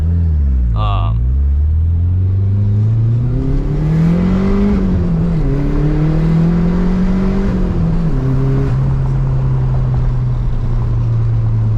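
A Ford Mustang SVO engine pulls off and drives away, a steady rumbling drone that rises in pitch as it accelerates through gears, loud and close, with a brief high whine near the start.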